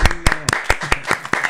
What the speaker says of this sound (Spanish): También aplauso para usted.